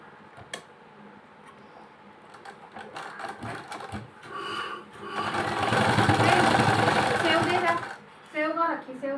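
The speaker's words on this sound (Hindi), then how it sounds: "अब इस पे जो है हम एक दाग सिलाई और लगाएंगे" An electric sewing machine stitches a line on trousers: soft ticking at first, then a loud, fast whirring run in the middle, with voices nearby.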